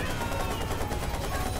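AK rifle gunfire in Watch_Dogs, a dense stream of rapid automatic shots packed tightly together, loud and close, continuing without a break across the whole moment.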